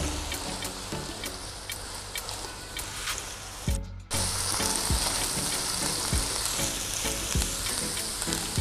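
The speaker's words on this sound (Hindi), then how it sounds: "और अब हम इसमें प्याज डाल देंगे। प्याज को जो है हमने ज़्यादा ब्राउन नहीं करना, सिर्फ लाइट सा गोल्डन ब्राउन कर लेना है।" Onions frying in a pan toward a light golden brown, a loud continuous sizzle and crackle with the scrape of stirring, briefly dipping when the onions go in, then hissing steadily on.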